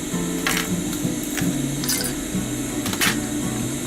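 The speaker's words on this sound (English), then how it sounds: "let's sew another cross and box shape stitches" A sewing machine runs in short bursts while stitching a cross-and-box pattern on a sustainment pouch. Its rapid mechanical chatter is close and steady, with a few brief higher clicks and no speech.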